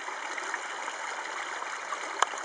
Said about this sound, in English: I'm going to zoom into this little waterfall here